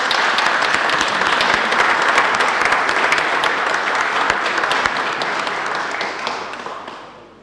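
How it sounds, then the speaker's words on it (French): Members of a municipal council session applaud together, a dense, loud round of clapping that holds steady for several seconds before tapering away. "je vous propose de les applaudir"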